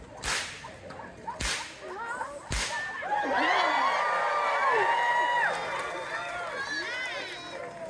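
Three sharp whip cracks at a target during a live show, loud single snaps spaced about a second apart, followed by crowd cheering and whistling.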